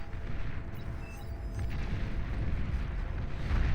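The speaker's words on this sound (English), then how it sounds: "Janus missiles hit hard." Janus tank missiles exploding in the strategy game Beyond All Reason, a continuous rumbling wash of deep booms and blasts layered over each other, dense and sustained with no talk.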